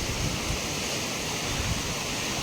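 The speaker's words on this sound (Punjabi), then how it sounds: "ਪਾਣੀ ਦੇਖੋ ਕਿੰਨਾ ਚੱਲ ਪਿਆ ਦੇਖੋ ਜੀ ਉੱਤੋਂ ਮੀਂਹ ਪਿਆ ਕਿਤੇ ਤੇ ਪਾਣੀ ਕਿਦਾਂ ਸਪੀਟੋ ਸਪੀਡ ਆਇਆ" Rainwater rushing fast along a channel near a bridge on the road to a gurdwara in Punjab, a steady broadband roar of flowing water that holds constant throughout without a break.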